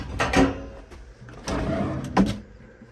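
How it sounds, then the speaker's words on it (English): Two rumbling slides of a large drawer in a 2004 Gulf Stream B Touring Cruiser Class B+ motorhome, each ending in a sharp knock, one around the start and another about a second and a half later. "Nice big drawer."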